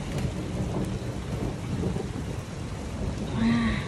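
A hail-bearing thunderstorm on a Sunday afternoon in Red Deer, Alberta, Canada, gives a dense, steady wash of rain or hail hitting surfaces with low thunder rumbling beneath, continuous throughout and a little louder toward the end.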